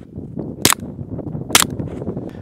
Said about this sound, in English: here's what a single gunshot sounds like